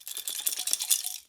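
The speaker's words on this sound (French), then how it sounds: "c'est un morceau du ballast qui a été cassé puis qui se balade à l'intérieur" A broken fragment of a compact fluorescent lamp ballast rattles loosely inside its casing, a rapid close series of small clattering taps for about a second, then stops.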